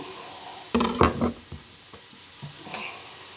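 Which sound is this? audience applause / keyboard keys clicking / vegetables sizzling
vegetables sizzling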